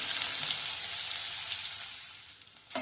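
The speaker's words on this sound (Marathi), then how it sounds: "यामध्ये एक बारीक चिरलेला कांदा घालणार आहोत" Finely chopped onion fries in hot oil with mustard seeds, cumin and turmeric, giving a steady close hissing sizzle that eases slightly before a brief stirring scrape at the end.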